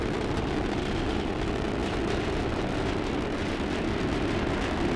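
Rocket boosters firing during the NASA Orion launch produce a continuous, heavy, broadband roar that holds steady and loud without a break, with no voices over it.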